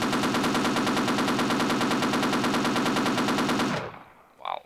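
Sustained rapid automatic fire from a mounted gun in the video game Half-Life, a loud unbroken rattle lasting nearly four seconds before cutting off, followed by a brief quieter sound.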